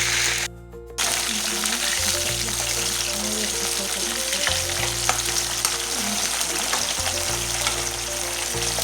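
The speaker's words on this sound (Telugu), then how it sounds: "ఆయిల్ ఫ్రై అయిన తర్వాత కట్ చేసిన వంకాయలు అయితే వేసుకోవాలి." Cut eggplants frying in oil in a kadai give a loud, continuous sizzle up close, with a short dip near the start and occasional stirring scrapes.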